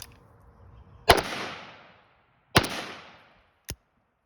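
An AK rifle fitted with a CMC 2 lb trigger fires two loud, close shots about 1.5 seconds apart, each followed by a ringing decay, then gives one sharper short report.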